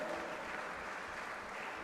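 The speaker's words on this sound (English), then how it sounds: "please give a thunderous round of applause" Audience applause at a lamp-lighting ceremony for a lecture series, a steady dense wash of clapping at moderate level throughout, with no voices on top.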